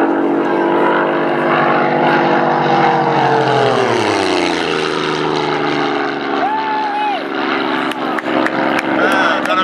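A supercharged V6 Nissan engine drives an 80% replica Supermarine Spitfire Mark 24 at an airfield, its loud, steady propeller drone shifting in pitch as it passes close by, with talk mixed in underneath.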